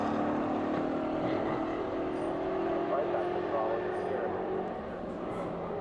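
A loud, steady vintage racing car engine drone holds high revs on throttle at a race track, a continuous rough roar with a slight rising pitch, heard from nearby.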